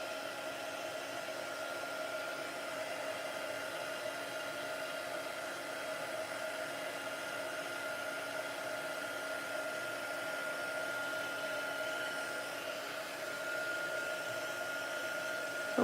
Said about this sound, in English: And then I'm going to use my heat gun.